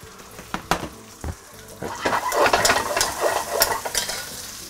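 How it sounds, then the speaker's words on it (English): Lemon sole being stir-fried with basil and coriander in a hot pan, with steady close sizzling broken by sharp utensil scrapes and clinks against the pan as the food is tossed. "finish the stir fry"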